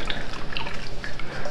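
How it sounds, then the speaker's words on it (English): Water splashes and trickles into a bin of paper pulp for handmade flower-petal paper in quick, uneven pours and drips. The sound is close and moderately loud, with no talking. "let's add in some water"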